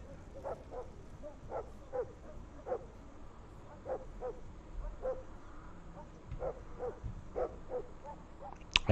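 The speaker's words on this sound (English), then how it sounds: "I hear barking dogs." Dogs barking in the distance in the Drug Dealer Simulator video game, a series of short, faint barks repeating irregularly over a quiet outdoor ambience.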